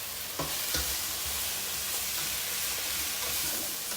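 Onions and fajita peppers sautéing in a pan, a loud continuous sizzle and hiss with a couple of clinks as the vegetables are stirred, close and steady throughout.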